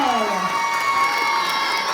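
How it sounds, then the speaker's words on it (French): Audience at a French dance battle contest greeting a judge, crowd cheering and shouting over a sustained tonal hum, loud and continuous, with excited voices mixed in. "Un tonnerre d'applaudissements"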